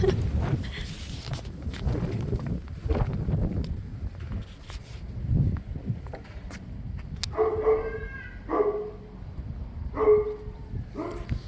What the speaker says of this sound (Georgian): კი ძაღლი ყავთ.